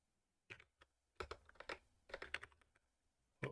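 Computer keys clack in a quick, uneven run of taps with brief pauses. The typing is close but quiet, with no talking over it.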